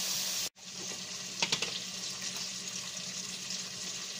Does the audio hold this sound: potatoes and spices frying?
yes